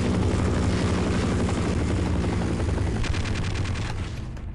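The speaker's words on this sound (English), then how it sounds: "Get away, chopper, please" In the video game Half-Life, a helicopter's loud rotor thump churns overhead while rapid machine-gun fire rattles in continuous bursts.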